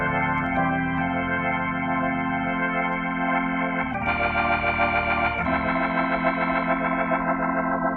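A Crumar Mojo Classic drawbar organ holds full sustained chords through its Leslie rotary speaker effect, shifting chords twice, loud and steady with a swirling quality and no talking.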